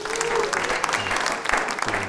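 Studio audience applause on a Georgian late-night TV show, a dense, steady wash of clapping from many hands that carries on throughout without a break.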